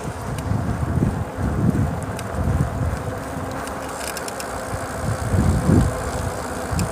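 Strong wind buffets the microphone during a bicycle commute through a severe thunderstorm in northern Nevada, a continuous rumbling roar that swells in gusts, with faint traffic noise underneath.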